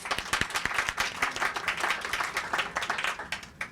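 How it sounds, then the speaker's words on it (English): An audience at the opening of a 30th showcase exhibition gives a round of applause, a moderate, even patter of many hands clapping close by that continues throughout with small swells. "Can I have a round of applause?"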